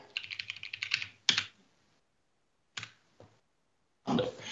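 Keys clatter on a computer keyboard in quick, close bursts of typing, with short silent gaps between the runs of clicks.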